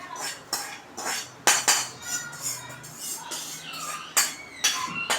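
A metal spoon scrapes roasted rava (semolina) out of a pan onto a plate while making rava kesari, giving a run of light clinks and scraping strokes at an uneven rhythm, close by and alone.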